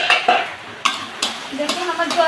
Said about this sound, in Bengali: এবার আমি ঢাকনাটা তুলে নেব।